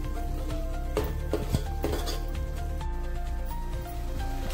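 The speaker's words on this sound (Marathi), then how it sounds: "तेलामध्ये जे वाटण तयार केलं होतं मसाला तो घातला, छान मिक्स करून घेतलं" A spoon scrapes and clinks against a cooking pot as spice paste is stirred into oil for mutton paya, with repeated metallic taps over a steady sizzling background.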